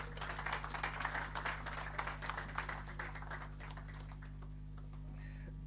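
An awards-ceremony audience claps for the founder of the Campus Journalism Award: faint scattered clapping over a steady low electrical hum, thinning out toward the end.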